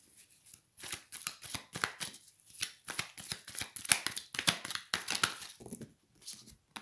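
A deck of tarot cards being shuffled by hand, with quick riffling bursts and soft card slaps in an irregular rhythm, close and fairly quiet, with no talking.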